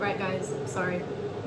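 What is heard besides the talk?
No distinct noise like a dog, phone or traffic.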